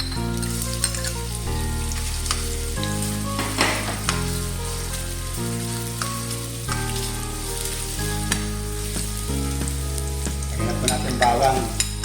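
Ginger dropped into hot cooking oil for chicken liver adobo, a continuous crackling sizzle with occasional spoon scrapes, heard close beneath steady background music.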